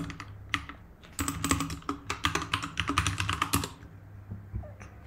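Someone types a password on an M1 Mac keyboard running macOS Monterey: a few isolated key taps, then a quick, close burst of clicking keystrokes lasting a couple of seconds, followed by a couple of final taps.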